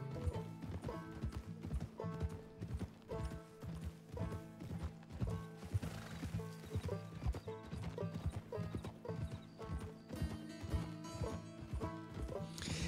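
Horse hooves clip-clop steadily while riding in the Western video game Red Dead Redemption 2, a continuous rhythmic trot with an occasional whinny, set against a game music and ambience bed.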